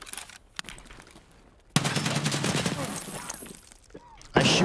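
Bursts of rapid gunfire crackle in a raid video game, a long dense volley after a few isolated shots, ending in a sharp loud blast, with someone talking over it.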